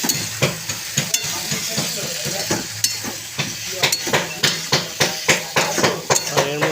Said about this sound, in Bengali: বললাম না 5 মিনিট কষে নেব।